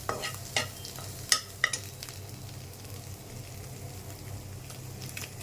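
Egg sizzling gently in a pan at a cooking stove, a soft steady frying hiss with a few sharp clinks of a spoon or spatula against the pan, no talking.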